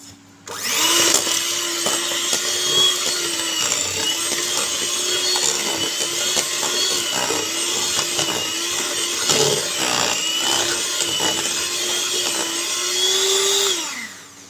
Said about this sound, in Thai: ขั้นตอนแรกเราจะตีเนยก่อนเลยนะครับ